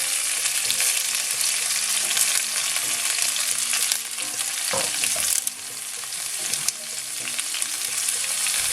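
Onions dropped into hot oil with garlic in a pan for Bengali fried fish, a loud continuous sizzle and crackle with a brief stir partway through, close and steady with no voices.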